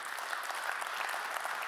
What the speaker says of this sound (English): join me in a round of applause for everyone who helped make this event happen